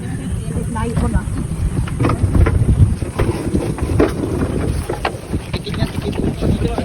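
A small wooden bangka boat moves across the water with sloshing and splashing, gusts of wind buffeting the microphone, and voices faintly audible throughout.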